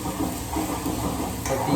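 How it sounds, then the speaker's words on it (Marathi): Masala paste fries in a pan with a steady, close sizzle and hiss, with faint stirring scrapes and no clear voices. "मस्त फ्राय घेतोय करून त्या."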